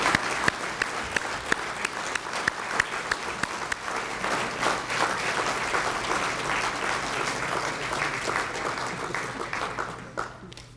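Sustained audience applause at a fire department awards ceremony honoring an officer of the year, steady dense clapping from a large room that fades out near the end.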